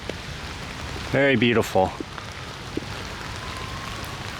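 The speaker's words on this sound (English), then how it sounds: "It's a rainy day in St. Louis" Rain falls steadily on a grey day in St. Louis County, a continuous soft patter and hiss heard close, with a person briefly speaking over it.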